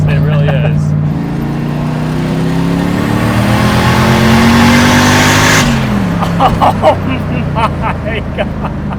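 A 900-horsepower rust-bucket car accelerates hard. Its engine note climbs steadily for several seconds, then drops at a gear change and revs again, loud and close, with voices faintly present.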